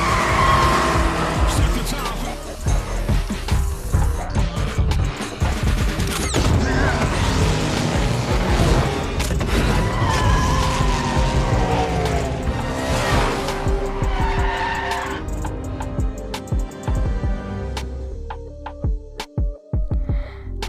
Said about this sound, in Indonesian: Dom pun kemudian menantang balapan Jacob dan yang kalah harus pergi